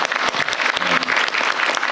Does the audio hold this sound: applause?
yes